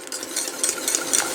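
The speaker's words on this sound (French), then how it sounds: "je mélange donc gentiment pour obtenir donc justement une préparation homogène" Hot cooked cream being whisked gently with white chocolate and almonds, a steady, close, soft swishing and scraping that repeats in quick strokes without pause.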